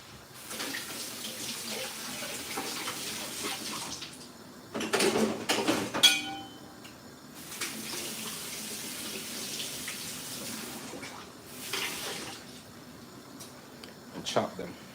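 Okra is washed under a running kitchen tap: water pours into the sink in long gushes, stops briefly, then runs again, with a clatter partway through and short splashing bursts near the end.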